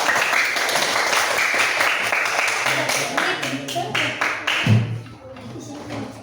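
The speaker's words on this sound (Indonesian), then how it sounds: "tepuk tangan yang meriah" Group applause, a dense patter of many hands clapping close by, fading out toward the end with voices beneath it.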